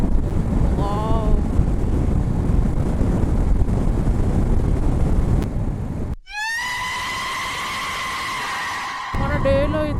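Strong crosswind buffets the microphone on a motorbike on a highway, a loud continuous roar that cuts out briefly and then returns with a high whining tone running beneath it.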